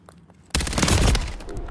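Gunfire in Modern Warfare 3 ranked play, a sudden loud burst of rapid automatic shots after a brief quiet moment, close and sustained to the end.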